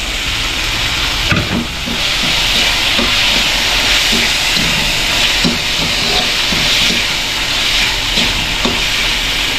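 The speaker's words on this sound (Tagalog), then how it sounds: "Yan po, nagisa-gisa na natin." Food sautés in a hot pan with ketchup added, a loud continuous sizzle and hiss broken by repeated scrapes and stirring strokes, heard alone.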